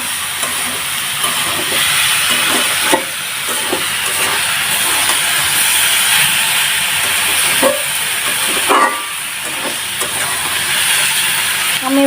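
Crushed garlic fries in hot oil in a pan, a loud, continuous close-up hiss and sizzle with faint stirring knocks now and then, and no speech over it.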